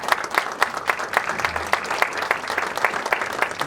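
Sustained applause from an audience at a university graduate program event in 2020, greeting the faculty dean; many hands clapping in a dense, steady patter with sharper individual claps throughout, fairly close and even in loudness, no speech.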